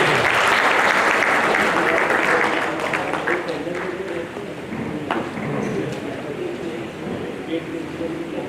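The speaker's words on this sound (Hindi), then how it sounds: "तालियां बजनी चाहिए इनके लिए।" A crowd at a ceremony honoring descendants of revolutionaries in Kanpur applauds, loud clapping at first that gradually thins and softens, with murmuring voices underneath.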